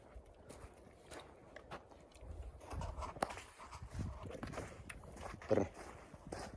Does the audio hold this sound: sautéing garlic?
no